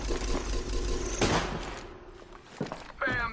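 Gunfire in the battle royale shooter Apex Legends, heard as a burst of shots and impacts over busy game noise. A sharp crack stands out, with a few more hits later, and a voice talks briefly in the background.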